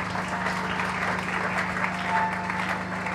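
A congregation at a church service claps steadily and fairly loudly for about three seconds, a continuous dense applause over a low hum.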